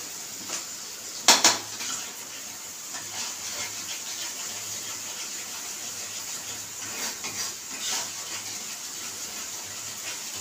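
A kharkol leaf paste being stirred in a pan gives soft scraping and rubbing sounds throughout, with a few sharper clinks of a utensil against the pan near the start and again toward the end. No one speaks.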